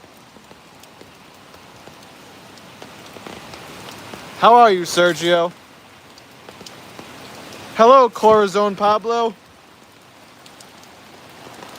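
Light rain patters steadily outdoors in Bacolod City, Philippines, while fish grills, a soft continuous background hiss beneath two short bursts of someone talking.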